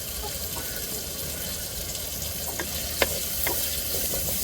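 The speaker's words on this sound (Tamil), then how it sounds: "வெங்காயம் வதங்குறதுக்கு நம்ம கொஞ்சம் உப்பு சேர்த்துக்கிறோங்க" Onions with a pinch of salt sautéing in a pan for a goat intestine curry give a steady sizzle with occasional scraping stirs, close and continuous, with no talking.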